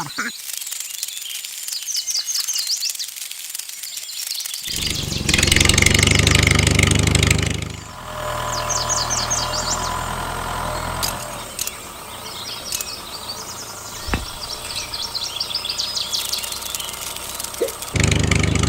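A small homemade DIY mini tractor engine kicks into life and runs with a steady mid-pitched chugging idle, close by, with brief voices, birds and insects in the outdoor background in Haiphong.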